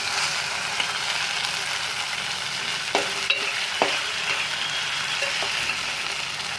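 Pork masala is stirred and fried with onions for biryani, making a constant loud sizzle with occasional scrapes and knocks of the spoon against the pan.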